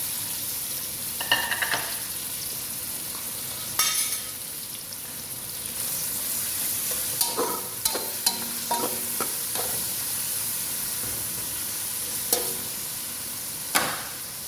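Sliced potatoes frying in hot oil in a pan, a steady close sizzle with a few clinks and stirring sounds on top.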